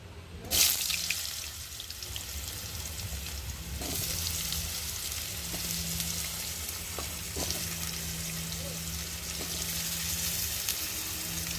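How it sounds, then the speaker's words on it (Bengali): Potatoes frying in a spice tempering in a pan, a constant close sizzle with occasional stirring scrapes, no talk. "আলুটা একটু ভালো করে ভেজে নেব।"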